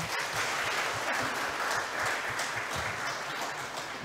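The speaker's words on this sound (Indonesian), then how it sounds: "Berikan dulu tepuk tangan." Audience applause at an academic graduation and semester closing ceremony, a full, sustained burst of many people clapping at steady loudness, with faint scattered sharper claps standing out.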